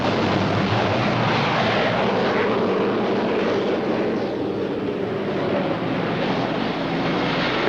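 Military utility transport aircraft flying at an aircraft carrier, a loud steady engine roar with a broad rushing hiss that holds constant throughout, no voices.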